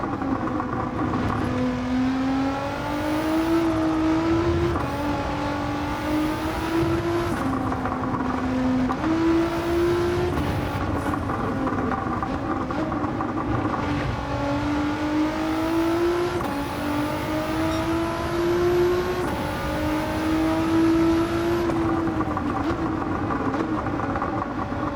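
Engine note of a car climbing through the revs in Gran Turismo 7, a steady droning whine that rises in pitch, dips at each gear change and rises again over about 25 seconds, loud and continuous with no talking.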